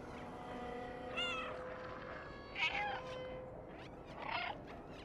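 A cat in the video game Stray meows three times, short high mewling cries spaced across a steady game ambience with no talking.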